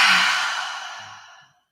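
A single long, breathy exhale during a yoga flow, close and fairly loud, fading smoothly over about a second and a half into silence.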